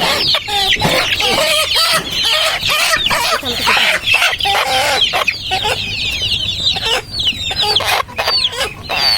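Many chickens cluck and squawk densely and loudly at a poultry farm, a continuous overlapping chorus of calls with no talk.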